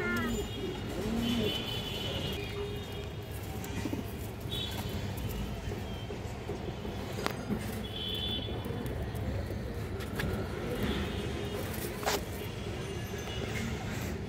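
A pair of green-necked pigeons coo softly now and then beneath a steady, rumbling background hum, with a few faint sharp taps scattered through.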